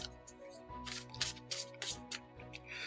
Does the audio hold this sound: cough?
no